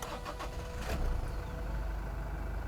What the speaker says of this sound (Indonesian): Artinya masih cukup halus ya, karena untuk sebuah mesin diesel ini lumayan modern nih.